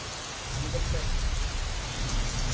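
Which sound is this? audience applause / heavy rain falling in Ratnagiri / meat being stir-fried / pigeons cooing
heavy rain falling in Ratnagiri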